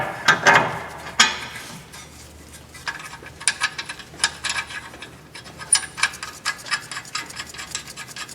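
A ratchet with a 19mm socket snugging down a bolt during a Honda Civic front wheel bearing replacement, giving a close series of metallic clicks and rasping turns with a few louder knocks early on.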